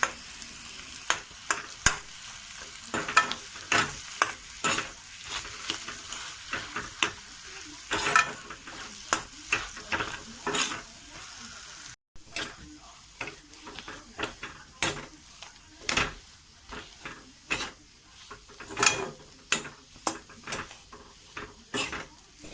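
Boiled, mashed potatoes are stirred in a pan for aloo chop filling, with repeated scraping and clattering spatula strokes over a soft frying sizzle, close and fairly loud throughout.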